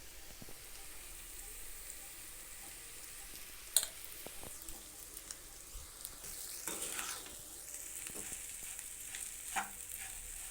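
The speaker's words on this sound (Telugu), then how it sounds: "ఈ పోపులో దీన్ని బాగా కలుపుకోవాలండి" Mashed idli stirred into a frying tempering for idli upma, a faint low sizzle with scattered clicks and scrapes of a spoon, one sharp knock near the middle, quiet and without speech.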